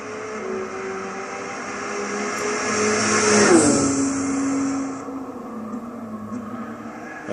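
Volkswagen GTI Roadster Vision Gran Turismo engine in Gran Turismo 6 on the Nordschleife, a steady loud drone that swells and shifts pitch midway as revs change, then settles lower and quieter.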